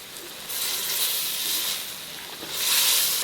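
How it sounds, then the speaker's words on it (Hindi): Masala and tomatoes frying in oil for mutton pulao, a steady close sizzle that swells louder twice, with no talking. "मसाला अच्छे से आपने भूनना है, टमाटर भी अच्छी तरह घुल जाएं, उतनी देर तक हमने इसको फ्राई करते रहना है"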